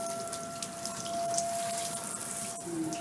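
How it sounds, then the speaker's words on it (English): Water runs steadily from a bathroom tap, rinsing Comet cleanser off the bathroom surfaces in a continuous close hiss with faint splashes. "then you rinse off the Comet"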